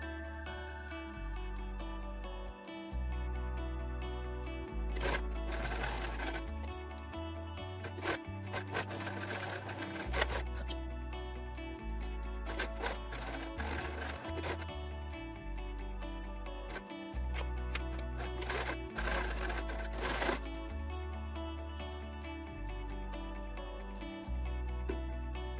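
A sewing machine stitches a diagonal line across fabric for a half-square triangle quilt block, running in steady bursts of rapid mechanical whirring with short pauses between runs, close and fairly loud with no talking.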